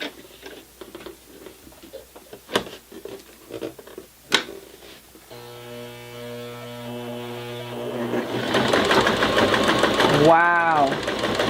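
A Janome 2212 sewing machine stitches through 16 layers of denim. After some scattered knocks, its motor starts a steady humming whir that grows louder and rougher toward the end.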